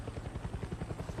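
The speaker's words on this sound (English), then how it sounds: "how do you get a helicopter These down?" A helicopter in the video game Far Cry 6 thumps steadily with a fast, even rotor beat and a dense engine drone, heard close and continuous with no talk over it.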